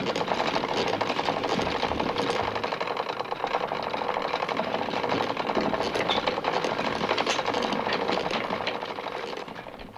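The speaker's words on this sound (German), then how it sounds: "Das Schwungrad setzt man beim Zwirnen in umgekehrter Drehrichtung in Gang." A wooden spinning wheel plies flax yarn, its flywheel turning in reverse, giving a steady rhythmic whirring and clattering that runs evenly throughout and eases slightly at the end, with no voices.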